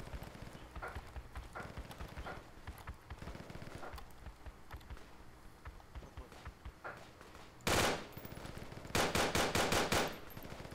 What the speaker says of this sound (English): Wait, I hear gunfire.